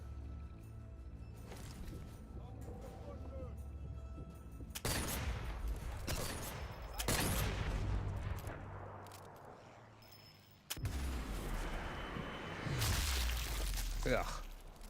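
German sniper rifle firing in the video game Sniper Elite 4, with several sharp loud shots spaced a few seconds apart over game noise, and a voice talking in between.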